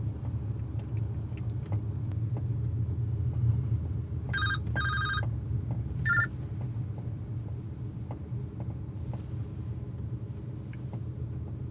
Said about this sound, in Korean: 기자 아저씨 전화 온 것 같은데?